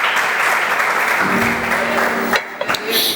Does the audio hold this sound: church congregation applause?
yes